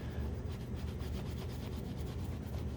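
Close, steady rubbing and scrubbing, continuous and fairly soft, as Flitz polish is worked into an object by hand.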